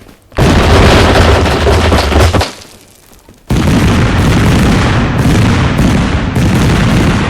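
Extremely loud, harsh weapon fire in Totally Accurate Battlegrounds, a sustained roaring blast that cuts off briefly and resumes, loud enough to distort and saturate.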